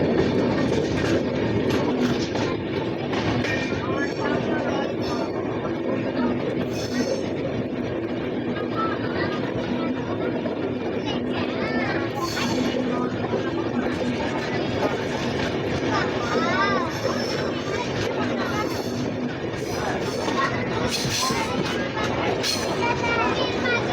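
A train on a single-track railway line near Dudhsagar on the Vasco da Gama to Belagavi route rumbles steadily and loudly up close, with wheels clacking over the rails throughout and voices talking underneath.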